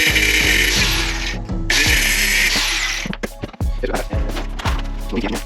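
A power tool cutting the small tips off parts for an LS engine swap into a BMW E46, loud grinding bursts with brief pauses and rattling, close up, no voices.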